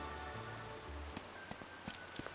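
Rain falls in the video game Atelier Sophie 2 as a steady hiss of drops on surfaces, joined by low game tones early on and a few sharper taps and clicks toward the end.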